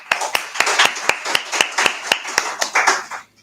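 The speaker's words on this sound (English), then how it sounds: "let's give a round of applause" A conference audience gives a round of applause, heard as a brisk, fairly close run of claps that thins out toward the end.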